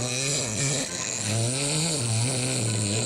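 Loud, rasping snoring with a droning, wavering tone, continuous and close, rising and falling with each breath.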